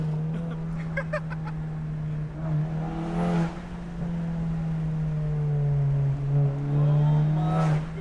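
A loud, heavily modified Mk7 Volkswagen GTI accelerating hard along a twisty road, heard from inside the cabin as a deep, sustained engine drone with rising and falling revs and occasional brief crackles and whooshes.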